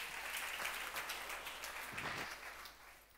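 A church congregation at a Sunday service claps together, a faint, steady patter of many hands that carries on for about three seconds before thinning slightly at the end.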